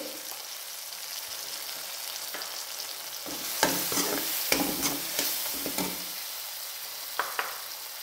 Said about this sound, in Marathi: टमाटा पण शिजतो, मसाला पण शिजतो।